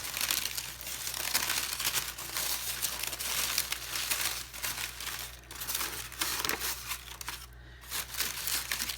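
Crepe paper petals on a huge handmade paper flower are pulled back and stretched apart, giving a close, continuous dry crinkling and rustling with no talk.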